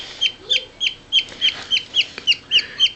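A tiny baby parakeet chick being hand-fed gives rapid, evenly spaced high chirps, about ten sharp peeps in quick succession, close and clear against a quiet background.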